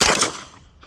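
An AK pistol fitted with an Amend 2 magazine fires one sharp, loud shot that decays quickly, followed by a fainter echo or second report near the end.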